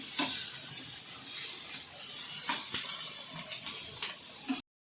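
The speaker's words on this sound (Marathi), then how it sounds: "कांदा ना आता तेलामध्ये ना लाल होतो तसा भाजून घ्यायचा" Onion fries in hot oil in a pan with a steady, close hiss and sizzle, and occasional stirring knocks mark the sound before it cuts off abruptly.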